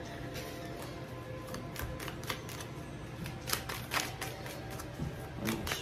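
Tarot cards are shuffled by hand, a quick series of soft riffling clicks and snaps in irregular bursts, close up against a quiet room.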